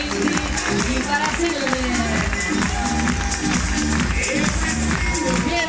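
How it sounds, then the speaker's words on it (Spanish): Crowd applause fills the stands at a Marineland Spain dolphin show, steady and close throughout, while an announcer's amplified voice talks over it. "Y el mayor aplauso va para Jordi Marino, Monse Cinti y para"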